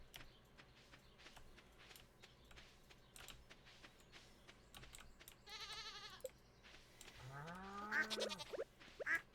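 A sheep bleats in the farming video game Stardew Valley, with a short wavering bleat near the end. It sits over faint keyboard clicks and soft background game sounds, with no talking.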